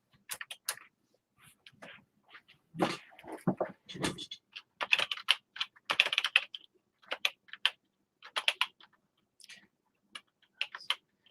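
Keys clatter on a Tandy 1000TX computer keyboard in irregular bursts of close, crisp clicks and taps with short pauses between, no voices.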